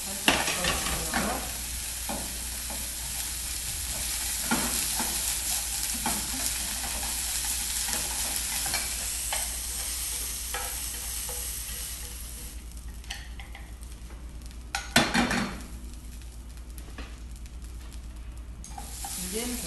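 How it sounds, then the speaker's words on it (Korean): Bellflower root, then salted and squeezed zucchini, pan-frying in an oil-slicked pan, with a steady close sizzle and occasional stirring and scraping clatter; the frying quiets toward the end, broken by one sharp utensil knock. "도라지 먼저 굽겠습니다. 소금에 절여서 물기를 뺀 호박도 살짝 넣어주고요."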